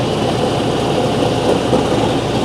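A heavy TYM 574 HST tractor engine idles steadily and loudly at about 900 RPM throughout, a low continuous rumble with a faint repeating knock beneath it.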